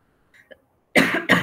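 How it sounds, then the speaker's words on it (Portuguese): Two harsh coughs in quick succession, close and loud, after a couple of faint small sounds in near silence. "tô com tosse."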